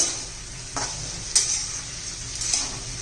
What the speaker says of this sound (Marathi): त्यात तेल घालून घेऊया गवार चांगली अशी परतून घ्यायची आहे